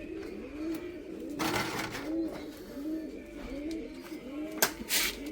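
Asmar and Badrank breed pigeons coo repeatedly in a rhythmic, overlapping pattern close by, with brief rustling bursts and a muffled voice faintly in the background.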